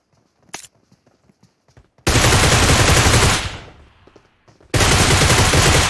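Loud bursts of automatic gunfire in PUBG Mobile: a few faint distant shots, then a sustained roaring volley that trails off, and a second long burst starting abruptly, close and dominant.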